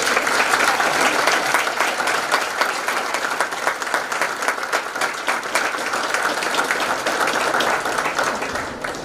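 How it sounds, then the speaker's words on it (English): An audience breaks into loud, sustained applause at a high school National Honor Society induction ceremony, a dense, even clapping that carries on without pause for several seconds, with no voices. "Let us all applaud."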